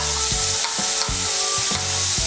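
Ginger and green chilli paste are stirred into hot oil, giving a loud, close sizzle with rhythmic scraping strokes of a spoon against the pan about every half second.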